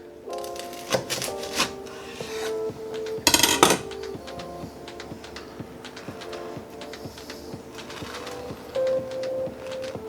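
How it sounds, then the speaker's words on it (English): A knife slices on the bias through a toasted Reuben sandwich, giving soft crunching cuts and clicks against a board, with one brief louder crackling burst partway through. "We're going to cut this guy on the bias."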